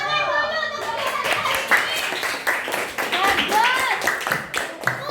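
A classroom of schoolchildren applauds after an electrical circuit lesson, with fast, crisp, dense clapping close by and a teacher and kids speaking over it throughout.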